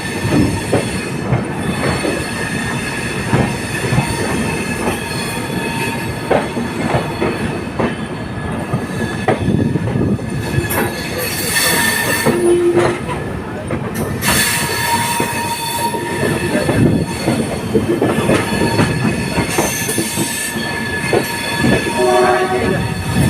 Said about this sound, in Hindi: Journey, train journey.